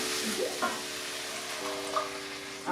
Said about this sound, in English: give it a stir first, just to make sure it's okay